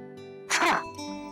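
A man with a cold lets out a single abrupt sneeze, a loud, breathy burst lasting a fraction of a second over a quiet background with a steady low hum.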